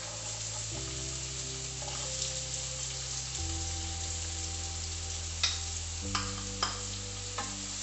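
Chopped red onion sizzles steadily in hot oil in a pan, with occasional scraping clicks of a spoon stirring it; a continuous frying hiss with no talking.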